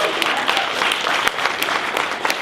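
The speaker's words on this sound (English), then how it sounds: "Let's give her a round of applause." Steady applause from an audience, continuous clapping at moderate volume with a few sharper individual claps standing out.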